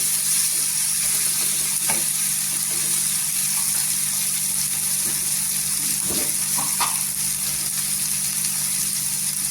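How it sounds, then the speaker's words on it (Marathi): Green chillies and chopped tomatoes sizzle steadily in hot oil, a continuous close frying hiss with occasional stirring scrapes, no talking. "दोन ते तीन हिरव्या मिरच्या आहेत आणि दोन टोमॅटो कट केलेला आहे इथे टोमॅटो पण छान असा तेलावर सोपून घ्यायचा"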